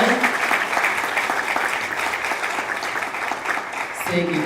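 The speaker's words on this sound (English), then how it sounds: "please give them another round of applause" Steady, full applause from an audience at a student leadership recognition ceremony, dense clapping throughout with some voices mixed in, and a speaker's voice starting up as the clapping fades at the end.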